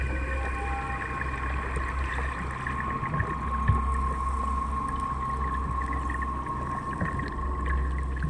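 Wooden ferry boat moving across a river at a cremation ghat at night, a steady low water wash and hull hum running continuously and evenly throughout, with no voices.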